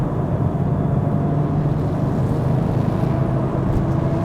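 A Porsche 911 Turbo of the 997.1 generation holds about 5,000 RPM in fourth gear, a steady, dense engine drone with road roar, continuous and close.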